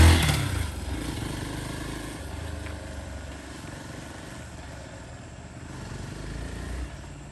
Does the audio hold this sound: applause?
no